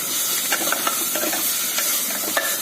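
Finely grated vegetables sizzle in a frying pan as they are stirred, a constant close hiss with quick, soft scraping taps repeating throughout.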